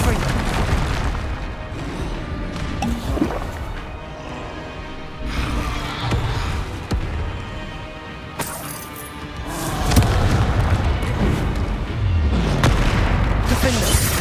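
Repeated heavy booming blasts from a Harry Potter video game's blasting curse, loud explosive bursts and crashes recurring through a chaotic fight, with a voice shouting spell names in between.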